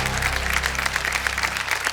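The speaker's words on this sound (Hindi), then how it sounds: "तालियां थोड़ी कम हो रही हैं।" Studio audience on the KBC game show applauding steadily, a dense wash of clapping from start to finish with a low hum underneath.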